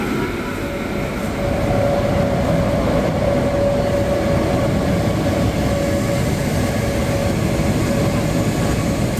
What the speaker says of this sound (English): So now we're just waiting for the train to Narvik, the Arctic Circle sleeper train.